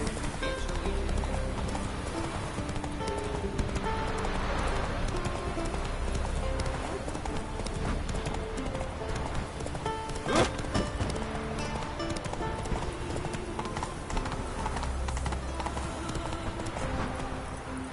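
The horse Roach in The Witcher 3: Wild Hunt gallops with steady, rhythmic hoof clip-clops that stay moderately loud throughout, set against a soft outdoor backdrop with occasional birdsong and faint voices.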